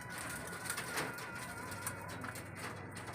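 Pet flyer pigeons feed on flyer mix, with soft cooing and light pecking taps in a continuous, moderately loud murmur close by.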